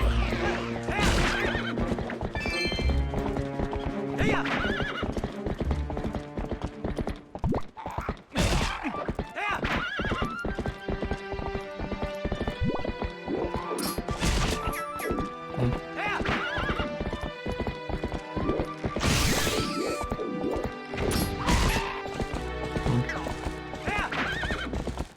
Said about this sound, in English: Today's all about horseback riding.